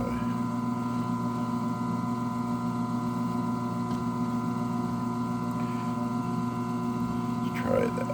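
A VEVOR 10-inch 240 watt meat and vegetable slicer runs with a steady electric motor hum and whine, constant and close, with a faint scrape near the end.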